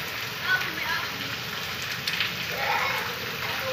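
Steady patter of heavy rain falling on surfaces in a village, moderately loud and continuous, with occasional faint voices in the background.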